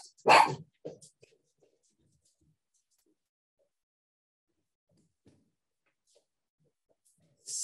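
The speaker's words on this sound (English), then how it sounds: "Sorry, one of my dogs" A pet dog gives one loud bark near the start, followed by a couple of quieter yips, then near silence with faint sounds later.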